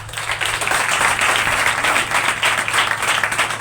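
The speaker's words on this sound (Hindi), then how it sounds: "उसके लिए भी ताली लगा दें।" A congregation at a Hindi-language Bible teaching session claps together in a steady, continuous round of applause, close and even in loudness.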